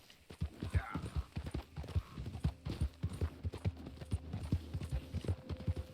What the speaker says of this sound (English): You take good care of your horse.